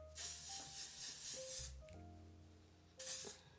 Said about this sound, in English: I'm gonna set my face with my L'Oreal setting spray.